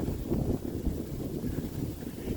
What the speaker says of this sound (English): Wow, that wind is really cold.